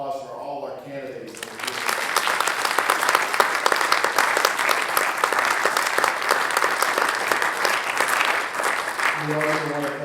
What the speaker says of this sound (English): how about a round of applause for all our candidates?